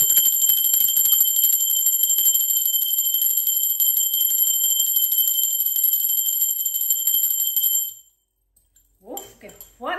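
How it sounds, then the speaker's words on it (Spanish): A bell rings continuously with a bright, sustained metallic tone for about eight seconds, then stops abruptly, followed by a voice talking briefly. "Yo no sé si es fuerte la campana"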